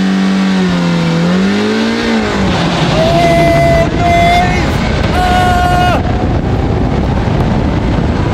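A car on a test run with flat, low-pressure tyres, its engine droning and rising in pitch as it accelerates, loud and close with heavy wind buffeting over it.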